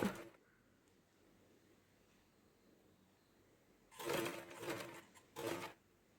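Close sewing machine stitching folded box pleats on a skirt: a quiet stretch, then two short runs of loud mechanical whirring separated by a brief pause.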